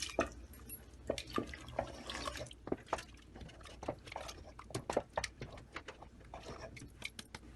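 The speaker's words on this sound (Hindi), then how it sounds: "तो अब हम इसमें डालेंगे 2 कप पानी," Water is poured into a cooking pot of dal, splashing and trickling in uneven bursts, quiet and close, with small drips and clinks scattered throughout.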